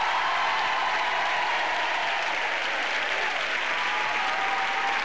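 Sustained, dense audience applause with crowd noise greeting a Valencian DJ taking the stage at a live music show, loud and continuous throughout without any talking.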